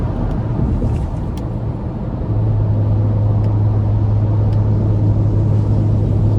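A loud, steady 3-liter EcoBoost engine in a 2025 Ford Ranger Raptor pickup drones with a deep hum that rises and holds as the truck accelerates, with road rumble underneath.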